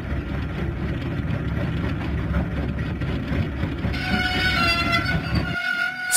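Cartoon train from a Thomas the Train children's video game rumbles steadily along rails, with a bright horn or whistle tone joining partway through before the running noise cuts off near the end; no one talks.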